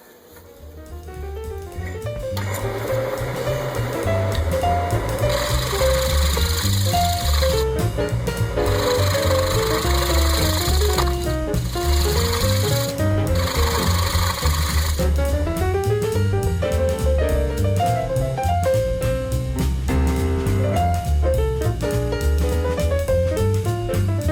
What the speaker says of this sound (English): we'll turn away this tenon